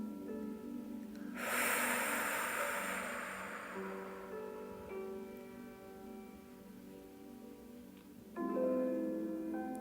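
A deep breath drawn in and slowly let out during a guided sophrology relaxation session, a soft airy rush lasting a couple of seconds over gentle background music with sustained tones.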